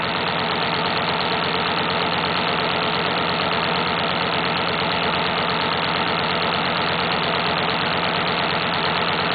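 The air motor of a player piano runs after resurfacing, with uneven bellows, a steady, continuous, rhythmic mechanical chugging drone heard close and alone throughout.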